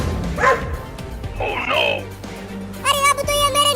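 Cartoon dogs give short yips and barks in a few separate bursts, mixed with a cartoon voice and music.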